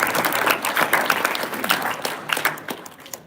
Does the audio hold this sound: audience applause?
yes